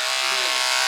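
Electric hair clippers buzzing steadily while cutting a boy's hair at home, a continuous close, fairly loud drone with a slight shift in pitch partway through, heard alone without talk.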